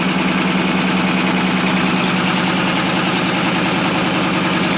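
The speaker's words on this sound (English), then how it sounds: "It does have a cracked exhaust manifold on the right side, so that's why it's a little noisier under the hood." A 1947 Ford Super Deluxe flathead V8 idles steadily after a cold start, its cracked right-side exhaust manifold adding a rapid ticking, puffing rhythm over the low, even engine drone, close and loud throughout.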